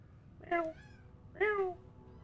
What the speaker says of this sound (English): All the kitties are in here right now.